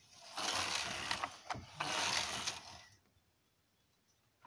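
A Superba knitting machine runs tuck stitch, the carriage sliding across the needle bed in two close, rough swishes with a brief click between them, then near silence.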